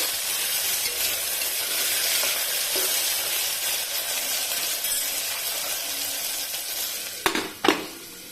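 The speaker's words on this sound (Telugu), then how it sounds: "ఈ టమాటాలు మెత్తగా మగ్గేంత వరకు అయితే మనం సిమ్లో పెట్టుకుందాం స్టవ్ని." Tomatoes and curry leaves sizzle and fry steadily in a pan on a stove for a curry, a continuous close hiss with a couple of brief clinks of a utensil near the end.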